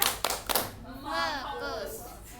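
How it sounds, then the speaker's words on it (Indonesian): Students in a classroom do a rhythmic focus clapping chant: a few sharp claps at the start, then young voices chanting together, close and fairly loud. "Tepuk fokus."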